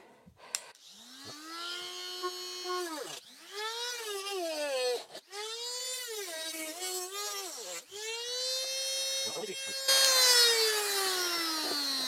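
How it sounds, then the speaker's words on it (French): A Honda VFR 1200 motorcycle's small parts are cut with a power tool in a workshop, giving a whining, rising and falling buzz in several separate bursts with brief pauses between them. "on commence par découper les petites parties ici. Donc ça va faire un peu de bruit évidemment"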